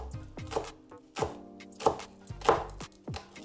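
Knife slicing chicken thin on a cutting board, six sharp thuds at a steady, unhurried rhythm, close and clear with no talking.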